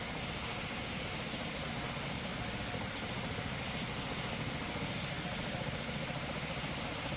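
Airliner powering down runway 15 in Pilot Training Flight Simulator, a steady, loud broadband engine roar held evenly throughout with no voices.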